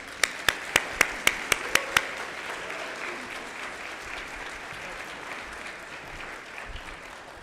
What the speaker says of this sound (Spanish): Recibamos con un fuerte aplauso a David Merchant